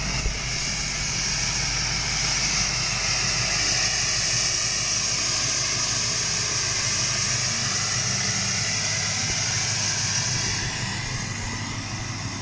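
A Ford 7.3 Powerstroke diesel truck engine runs at a steady high idle nearby after a cold start, a constant loud drone with a high whining tone and no breaks.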